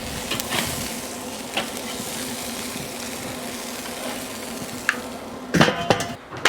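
Burger patties sear on a smoking grill, a steady close sizzle with faint crackling throughout and a few louder scrapes and clatters near the end.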